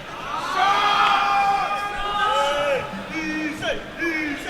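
Esports crowd at the ECL2 event for a Demolition match on Summit cheering and whooping steadily in a large venue, with voices shouting over the roar throughout.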